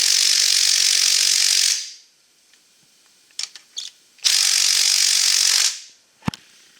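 A ratchet loosens the transmission drain plug on a 2001 GMC pickup: two long, close, loud runs of rapid ratcheting clicks, with short bursts of clicks and a quiet pause between them.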